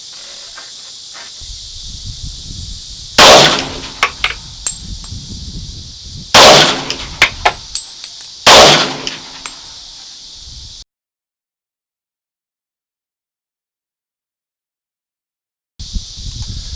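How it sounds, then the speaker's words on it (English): Pistol fired at a large center-mass target, three sharp loud cracks spaced a few seconds apart, each trailed by quieter rattles, then a stretch of total silence. "I'm going to fire 3 more rounds, same target, the big center mass target"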